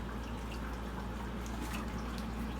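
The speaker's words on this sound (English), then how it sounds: "I just dump water right on into the bag" Water poured into a bag of terrarium plants for a bioactive crested gecko enclosure, a steady, soft splashing and dripping pour that runs unbroken and close by.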